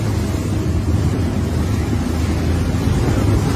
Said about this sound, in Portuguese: Tá bem mexido aqui o mar.